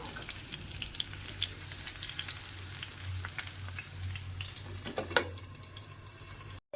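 Garlic frying in a covered pan gives a steady, close sizzle with light crackles throughout, a brief sharper clatter near the end, and no one talking.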